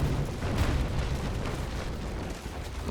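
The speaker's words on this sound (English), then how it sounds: "The cannons." Ship cannons firing in the naval battle game Naval Action, a dense, loud rumbling barrage of booms and bursts that continues without a break, heavy low-end thunder throughout.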